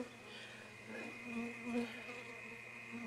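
Honey bees buzz near a mixed open and closed brood frame in a Florida hive, a soft continuous hum that swells gently and stays close and faint.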